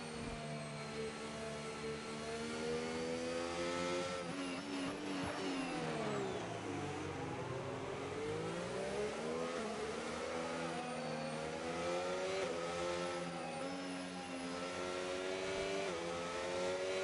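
Race car engines from an F1 video game at the China round whine steadily and loudly throughout, pitch sweeping down and back up as the cars accelerate, with layered harmonic drones and no talk.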